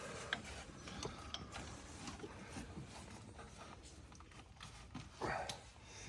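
A socket ratchet turns a bolt on the oil filter housing of a 2017 Dodge Ram 1500, making faint, irregular clicking amid steady shop background noise.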